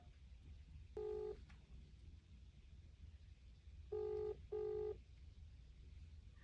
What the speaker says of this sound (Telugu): కాల్ చేయండి అమ్మా ఈ నెంబర్కి.